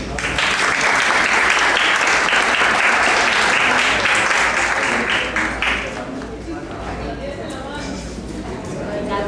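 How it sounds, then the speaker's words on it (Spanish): Loud, dense audience applause at a university lecture on consumer protection in Cartagena, welcoming the speaker; it fills the first six seconds, then fades to scattered claps and murmuring. "Recibámoslo con un fuerte aplauso"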